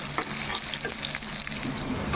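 Onions and green chillies fry in a pan for a potato curry, with a steady, close crackling sizzle and occasional stirring scrapes running throughout, with no one speaking.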